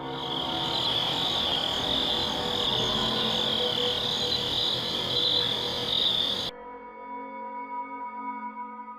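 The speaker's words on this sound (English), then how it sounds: "catches nothing but crickets chirping under a night sky" Crickets chirp steadily through a night scene outdoors, a dense high insect trill that holds loud and constant, then drops to a thinner, fainter chorus for the last few seconds.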